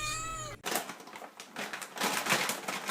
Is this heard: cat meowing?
yes